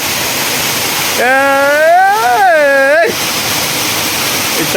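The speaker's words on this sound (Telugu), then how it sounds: "చూడండి ఫ్రెండ్స్, ఇప్పుడు మీకు అద్భుతమైన వాటర్ ఫాల్ చూపిస్తా." A waterfall in Maredumalli rushes steadily up close, a loud continuous broadband roar, with a voice briefly singing or calling over it in the middle.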